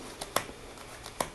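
Playing cards dealt one at a time during a card trick, a few sharp papery snaps spaced apart at close range, with quieter soft rustles between them.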